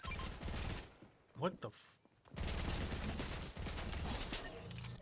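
Rapid SMG gunfire in Fortnite, with loud sustained bursts of shots before and after a brief pause, and a voice exclaiming in the middle.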